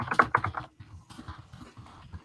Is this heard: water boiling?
no